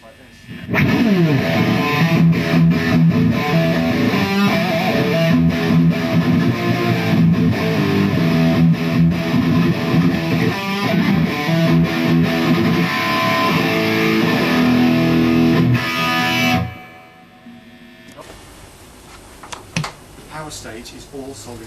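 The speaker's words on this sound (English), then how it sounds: "If we boost it to overdrive 2, it sounds like this." An electric guitar played through a 2003 Marshall amp on its overdrive 2 channel roars with dense, heavily distorted chords for about sixteen seconds, then cuts off abruptly into faint room noise.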